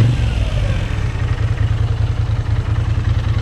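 A Moto Guzzi V7 III motorcycle engine runs loud and close, a steady low pulsing throb that swells slightly as the throttle is twisted, with no voices over it.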